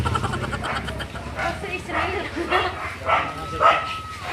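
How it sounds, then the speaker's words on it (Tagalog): A dog barks outdoors beside a vegetable garden, short yapping calls breaking out over people talking nearby. "Oh, ayan guys, may aso nakakatakot."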